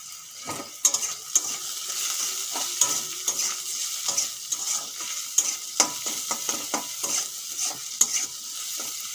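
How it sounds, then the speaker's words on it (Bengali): Potatoes and onions frying in a pan, a steady close sizzle broken by repeated scraping stirs of a utensil against the pan, with no voices. "আলু আর পেঁয়াজ একটু ভেজে নিয়েছি এখন দিয়ে দেব হলুদ গুঁড়ো নুন"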